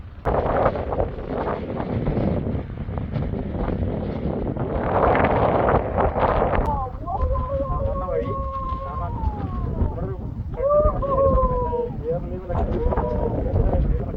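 Gusty wind roars across the microphone on a misty hilltop in a steady broadband rush, joined later by a wavering high tone that rises and falls.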